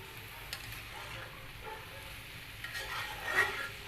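Cabbage bhaji being stirred and fried in a pan, giving soft scraping stirs over a faint, low sizzle, with a slightly louder scrape near the end.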